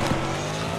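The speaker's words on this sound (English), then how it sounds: "they driving up on us, bro" A car drives up in a Roblox hood game set in the Bronx, a steady close engine drone holding for under a second with a brief rise near the start.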